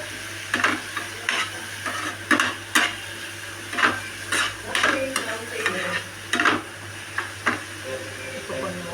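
A pan of frying food with milk is stirred in repeated, rhythmic scraping strokes over a steady sizzle, with a low hum running underneath.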